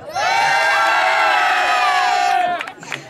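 A crowd at a tuning car meet costume contest in Cerny-les-Bucy shouts and cheers loudly and continuously for a contestant, the roar cutting off near the end before a few scattered shouts.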